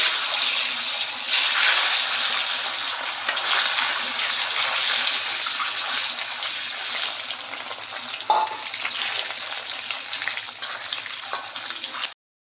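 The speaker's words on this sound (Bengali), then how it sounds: "সেই জন্য ডিমটা এখন আমি সেদ্ধ করে নিয়েছি, ভেজে নিচ্ছি ডিমটাকে" A boiled egg fries in hot oil, giving a steady, close, loud sizzle that runs unbroken for about twelve seconds with a brief clink partway through and no voices.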